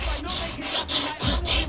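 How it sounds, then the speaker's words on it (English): Rhythmic hand cross-sanding of a 1/16 scale 1957 Chevy convertible model car body, repeated rough back-and-forth strokes, close and moderately quiet, about eight passes in a steady rhythm. "anytime I get a chance, I'm cross sanding"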